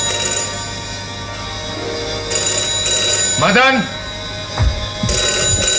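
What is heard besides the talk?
telephone ringing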